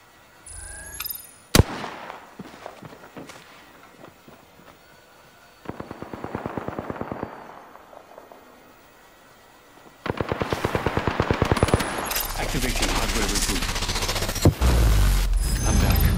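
Bursts of automatic gunfire in a battle royale shooter match, sporadic rapid volleys early on, then sustained heavy firing that grows louder and denser toward the end, with no talk over it.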